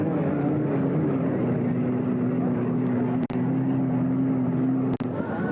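An unlimited hydroplane racing boat engine roars in a steady, loud, continuous drone at a Seafair race, with a couple of brief sharp dropouts.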